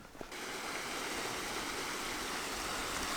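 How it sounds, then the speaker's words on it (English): Creek water rushes steadily beside a campsite, with a few cold patches of ice still along the edge; the broad, even flow is loud and close and runs unbroken from just after the start, with no voices. "The creek is just right here."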